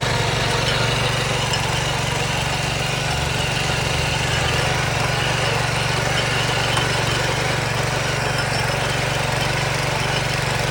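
A Kama 7.5 HP power weeder engine runs loud and close, a steady unbroken buzzing drone with a low throbbing beat that never changes pace throughout.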